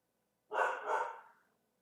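A dog in the Skyrim video game lets out one loud, drawn-out bark that rises and trails off, clear against an otherwise silent background.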